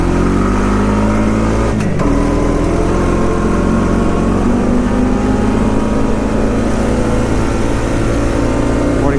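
A Honda 420 Rancher 4x4 foot-shift ATV runs flat out near its top speed, a loud, steady engine drone with a brief pitch dip early on, close and continuous with wind rush throughout.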